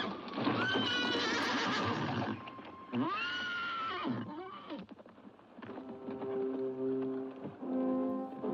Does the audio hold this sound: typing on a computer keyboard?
no